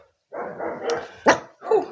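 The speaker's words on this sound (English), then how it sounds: "noisy dogs" Dogs barking indoors, nearby, in three or four quick yaps and barks with short gaps between them, loud and alone with no talk.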